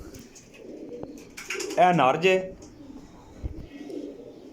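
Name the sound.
Sialkoti pigeons cooing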